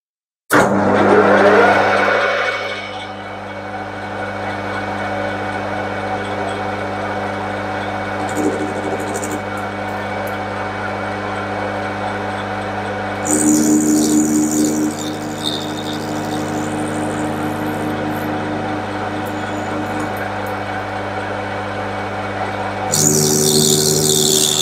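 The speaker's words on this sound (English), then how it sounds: "Lathe's all set, here goes." Metal lathe running steadily while threading a quarter-inch BSP fitting with a die held in the tailstock holder, a continuous motor hum with tonal whine and brief louder grinding bursts midway and near the end.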